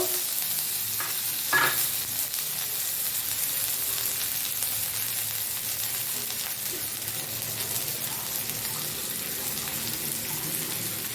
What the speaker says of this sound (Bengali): এবার আমি এর মধ্যে একটু কুচনো পেঁয়াজ দিয়ে দেবো।